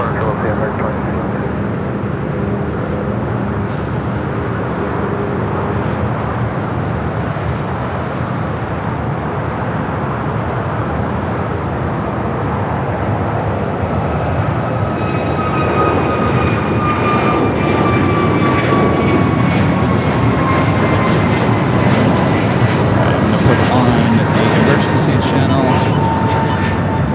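A Delta airliner approaches and lands on runway 25 at LAX, its engine rumble building steadily and a rising whine sweeping through late in the pass, while voices and radio chatter run underneath.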